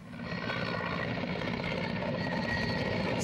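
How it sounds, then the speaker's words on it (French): A helicopter sent from Ouagadougou flies close by, its engine and rotor making a loud, steady drone with a throbbing beat that holds at constant strength throughout. "C'est par cet hélicoptère dépêché depuis Ouagadougou que ces élèves de Tuéni, au nombre de 26 plus 4 parents d'élèves, ont pu rallier Touga."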